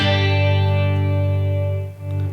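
A held, distorted guitar chord passes through a Quad Cortex flanger on a triangle waveform, sweeping steadily and loud, with a brief dip near the end before the tone swells back.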